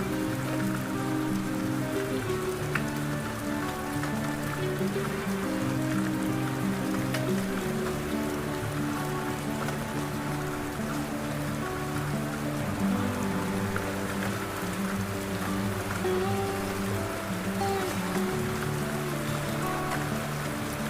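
Steady rain falls for the whole stretch during a motorbike expedition from Kanpur toward Pokhara, a dense, even patter on surfaces with no voices.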